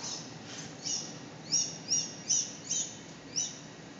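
Birds chirp in short, bright, faint calls, about six spaced tweets, over a soft outdoor background with no talk.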